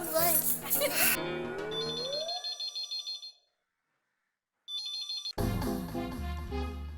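A telephone rings while a call is placed in a Hindi TV sitcom scene. A repeating electronic ring pattern follows talk and music, drops into silence, then returns briefly before loud music resumes.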